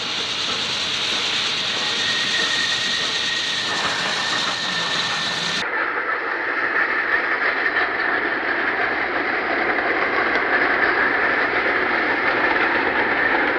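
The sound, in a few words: Pennsylvania Railroad train in World War II footage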